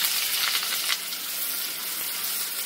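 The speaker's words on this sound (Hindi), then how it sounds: "अब डाल देंगे हम बारीक कटा हुआ प्याज।" Finely chopped onions sizzle in hot oil in a pan while dal tadka is prepared: a constant crackling fry, fairly close and steady, with a slight stirring scrape near the start and no talking.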